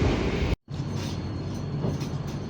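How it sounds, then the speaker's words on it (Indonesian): Jayakarta passenger train pulling into Mojokerto station, a steady low rumble of rolling carriages from inside the car, broken by one brief dropout. "Perjalanan kereta api Jayakarta tiba di stasiun Mojokerto"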